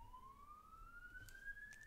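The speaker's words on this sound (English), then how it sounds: "Apologies for the siren if you hear that in the background" A police-type siren wails faintly in the distance, one long steadily rising tone that climbs over two seconds, thin and far behind a quiet indoor room with no talking.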